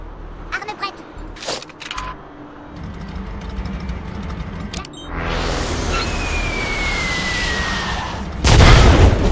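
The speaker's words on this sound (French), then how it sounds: "j'avais fabriqué une frappe aérienne, je vais l'utiliser" Air strike in the video game Worms WMD: game clicks and mechanical sounds, then a long rushing roar followed by a heavy, loud blast near the end, with a voice talking.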